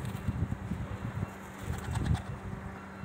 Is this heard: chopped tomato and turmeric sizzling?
no